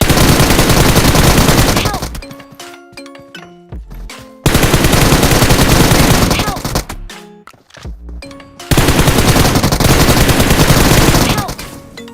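Bursts of rapid automatic gunfire from the mobile shooter PUBG Mobile, three loud sustained volleys of about two seconds each, with quieter pauses between them.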